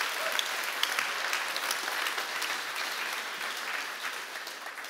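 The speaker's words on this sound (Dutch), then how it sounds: "Daar wil ik wel graag een applaus voor." An audience at a Dutch lecture gives steady applause, an even wash of many hands clapping that continues for several seconds at moderate loudness in a hall.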